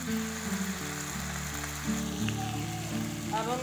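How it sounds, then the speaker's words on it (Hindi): Chicken fries in a pan while being stirred and turned, a soft steady sizzle sitting under tonal background music throughout. "इसको अच्छी तरह से हिलाते चलाते हुए हर तरफ से फ्राई करना है चिकन को"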